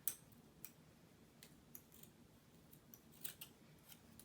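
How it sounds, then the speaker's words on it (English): Scissors snip a tag off a pack of dry baby wipes, a few quiet, sharp clicks spaced irregularly over a faint, hushed background. "Let me cut this tag off here."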